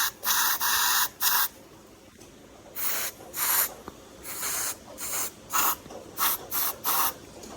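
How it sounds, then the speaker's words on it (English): Pure TRC 5-56 lubricant is sprayed into the switch gaps on a 1985 Yamaha Vmax motorcycle in a rapid series of short, close hissing bursts, some quick and some longer, over a quiet background hum. "just spray in my gaps here."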